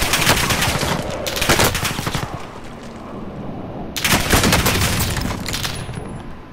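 Sustained bursts of gunfire from the Call of Duty: Modern Warfare video game, loud and dense, two heavy volleys with rattling automatic fire between them, no voices.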